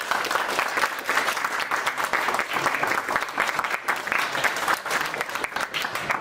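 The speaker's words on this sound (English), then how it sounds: "A round of applause for Zach." Dense, steady applause from an audience at a collegiate eSports awards ceremony, sustained evenly for several seconds with no break.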